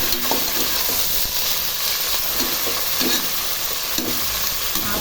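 Mint and coriander leaves hit frying chicken biryani masala, giving a loud steady sizzle broken by repeated scraping stirs of a spoon against the pan, with no voices.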